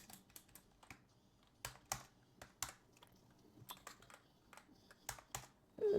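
Quick bursts of typing on a computer keyboard while CSS code is entered, clusters of close, crisp key clicks separated by short pauses, quiet and without speech.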